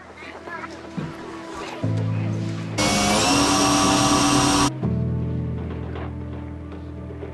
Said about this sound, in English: I'm just going to rivet one up here and then drill as I go